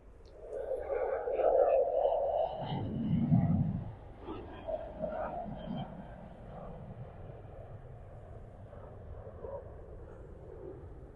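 A distant airliner climbs out from Sydney Airport on an evening Sydney-to-Adelaide service, its broad engine roar swelling early on, then thinning into a steady, fading rumble.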